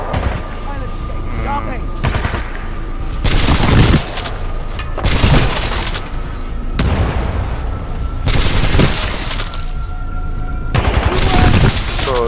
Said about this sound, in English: there is someone shooting me from the back